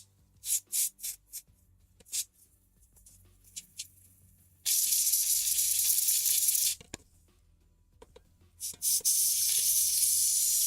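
Spray cleaner misted over an Xbox controller in short bursts: several quick spritzes at first, then two long sustained hissing sprays, close and loud with no talking.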